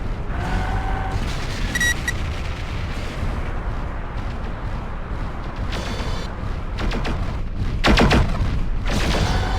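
In the video game MechWarrior 4 Vengeance, a destroyed target explodes with a deep, rumbling boom that rolls on continuously, followed by sharp bursts of weapon fire and metallic crackles near the end.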